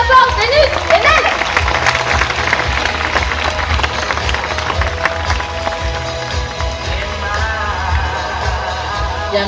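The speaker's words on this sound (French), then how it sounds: "on peut applaudir bien fort, Vénus et Nell" A large audience at the Beauval Zoo sea lion show claps loudly and steadily, with a dense wash of applause and some crowd noise sustained throughout.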